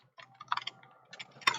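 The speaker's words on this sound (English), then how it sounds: "You can see me typing shadow." Someone types on a computer keyboard during a web coding lesson: about a dozen quiet, irregular key clicks in short bursts, close up, ending with one sharper tap, and nobody speaks.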